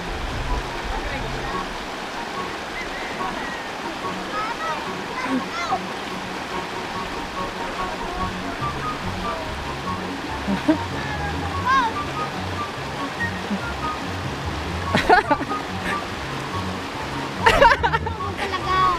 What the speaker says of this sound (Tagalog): Grabe, ang lakas ng agos.